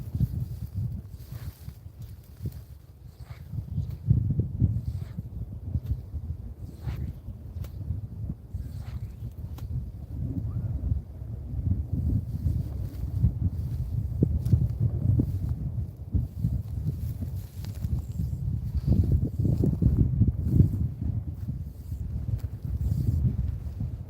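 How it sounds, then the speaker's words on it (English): Strong wind buffets a cold fishing spot outdoors, a continuous low rumble with gusty swells throughout, some light knocks and movement mixed in. "The wind is blowing so hard this way that I can't get a good back cast"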